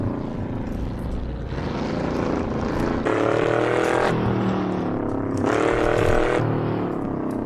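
A 1966 Ford Mustang Fastback engine in the racing game Assetto Corsa, a loud continuous roar that rises and falls with gear changes as the car rips down a touge mountain road.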